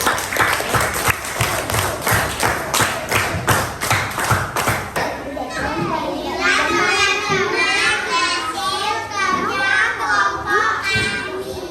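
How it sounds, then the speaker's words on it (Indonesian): A class claps in a quick rhythmic burst for several seconds, then children's voices fill the room with excited chatter. "tepuk tangan dulu"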